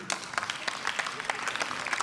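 Left party members clapping in the German Bundestag during a pension debate: brief, scattered applause from a small group, fairly faint, with sharp individual claps standing out.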